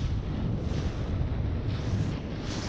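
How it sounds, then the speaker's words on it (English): Strong wind buffets the microphone on a boat at a mullet fishing spot, a steady loud broadband roar that holds for the whole stretch with only slight surges and no voices. "The wind is coming at me real strong right here."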